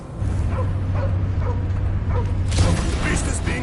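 Cosmo the dog in the Guardians of the Galaxy video game gives several short barks and yips amid a continuous mechanical hum, with a louder burst of game action toward the end.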